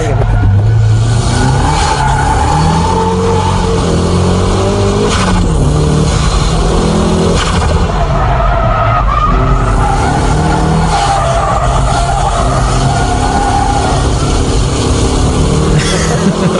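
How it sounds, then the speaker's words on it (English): A drifting car skids with squealing tires and a loud, revving engine, the noise continuous and close throughout with rising and falling engine pitch. "My drifting is a bit wild, isn't it?"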